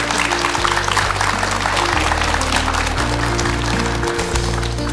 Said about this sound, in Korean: 오늘 명강의 펼쳐주신 손철주 선생님께 다시 한번 큰 박수